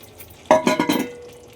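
Green peas tipped into a pan with a burst of clatter and sizzle, then stirred for several quick scraping strokes, close by, before fading to a soft hiss.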